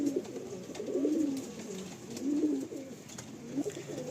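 Male pigeons coo in repeated low, throaty phrases, rising and falling in a steady rhythm, fairly close with a soft background hum.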